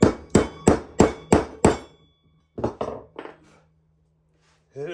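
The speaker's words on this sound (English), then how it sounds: "hit it with your hammer" A hammer strikes metal while threaded inserts are lined up for furniture legs, six sharp ringing clangs in quick steady rhythm, then three duller irregular knocks and one last hit after a pause, close and loud.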